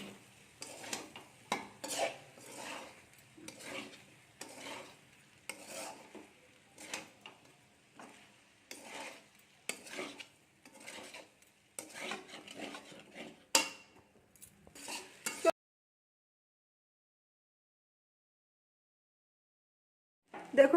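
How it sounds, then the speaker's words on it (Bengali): Pasta being mixed in a pan with tomato sauce: repeated scraping and clinking strokes of a utensil against the pan for about fifteen seconds, then silence, with one final clack at the end. "এবার আমরা এটাকে খুব ভালো করে মিক্স করে নেব দেখুন"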